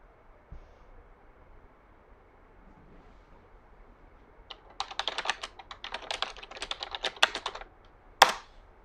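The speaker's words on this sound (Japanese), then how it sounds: "めちゃくちゃタイピングしてる。" Rapid, dense keystrokes clatter on a computer keyboard in a burst of several seconds, following a quiet stretch and ending with a sharp click.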